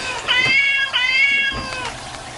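A cat meows two clear times in quick succession, followed by a softer, shorter third meow, close and fairly loud.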